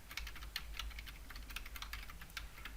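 Rapid typing on a computer keyboard while entering C# database connection code, with steady clustered key clicks and no talk.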